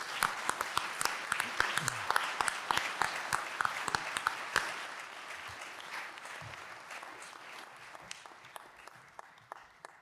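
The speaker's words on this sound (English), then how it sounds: "I think he deserves an applause" At a scientific conference opening session, a hall audience applauds a medal award, brisk sharp claps dense at first, then thinning into scattered, fading claps over ten seconds, moderately distant.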